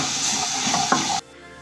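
Maida flour roasting and being stirred in a hot pan, a steady dry sizzle with scraping strokes that cuts off abruptly near the end.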